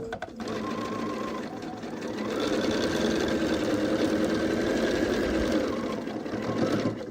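A sewing machine runs steadily, stitching pieces of a queen-size pinwheel quilt block in a fast continuous whir close up, while a person talks over it.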